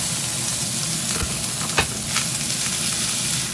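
Onion, green pepper, chili and char siu stir-fry in a hot iron wok over medium heat, a loud continuous sizzle close by with a few sharp clanks of the spatula against the metal.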